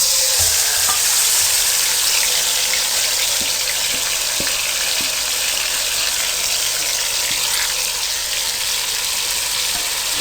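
Marinated chicken frying in masala in a pan over a medium flame for Lahori murg chole, a steady loud sizzle throughout with faint scraping stirs and occasional soft knocks.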